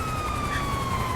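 An ambulance siren in a video game, a steady wailing tone that runs continuously through the brief moment, fairly faint and heard alone.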